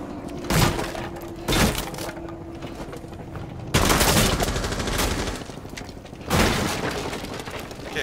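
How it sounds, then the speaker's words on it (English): Gunfire in Rainbow Six Siege comes in several sharp bursts and single loud shots spread through the stretch, with mechanical clatter and a lingering echo between them. "someone's trying to shoot at me."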